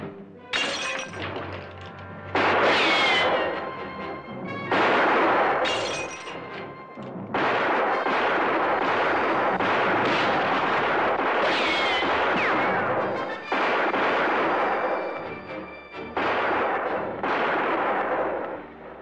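Gunfire in a western TV drama scene: loud, dense bursts of shots and crashing impacts that come back repeatedly over about nineteen seconds, with short gaps between the volleys.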